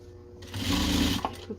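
A sewing machine runs a short burst of topstitching along the lining of a double patchwork fabric pouch, a close, loud whirring rattle that starts, holds for under a second, then stops with a few small clicks.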